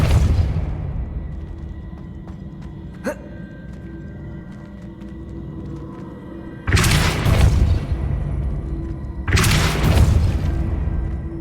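The Depulso force-push spell is cast twice in Hogwarts Legacy, each a loud, sudden burst of whooshing impact; the bursts land a few seconds apart over a low, steady game ambience.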